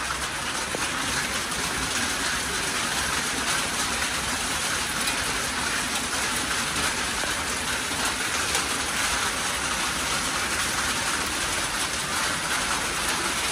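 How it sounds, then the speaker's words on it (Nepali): Hail and heavy rain pour down on a hillside near Pathibhara and Tinjure in Nepal, making a dense, unbroken roar of impacts that stays constant and close, with no voices. "हेर्नुहोस् त कत्रो असिना पानी पर्दैछ यहाँनिर"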